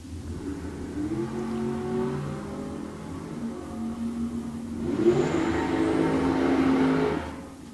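Dragster 534 launches down the strip at a bracket racing shootout. The engine note climbs steadily at a moderate distance, then a louder, harsher surge follows before fading out.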